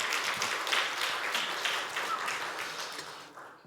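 Church congregation applauding at a Sunday worship service, a dense patter of claps that holds steady and then tapers off, moderately distant and not very loud.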